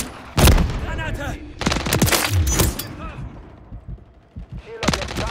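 Gunfire in the shooter video game Call of Duty: Modern Warfare III, with loud bursts of rifle and automatic fire in several rapid volleys, closely mixed with shouted voices and battle ambience.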